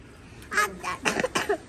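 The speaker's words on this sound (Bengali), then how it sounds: "ওফ কাশি।" A short burst of several sharp coughs in quick succession, close and fairly loud.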